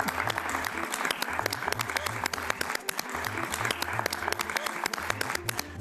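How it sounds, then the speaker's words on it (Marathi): An audience applauds the winning couple of a best-couple contest on a Marathi TV show, a continuous, even wash of clapping from many people that fills the whole stretch. "एकदा जोरदार टाळ्या बेस्ट कपल साठी"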